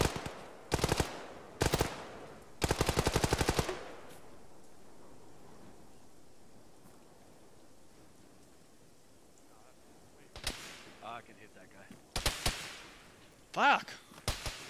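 Gunfire crackles in an Arma ShackTac firefight, several sharp bursts early, then a lull with quieter scattered shots later, and players' voices in between.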